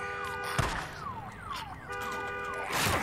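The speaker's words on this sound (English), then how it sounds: "let's try this car alarm thing again" Car alarm in the Days Gone video game, repeating falling electronic whoops in cycles with brief noisy thuds between, fairly loud and close.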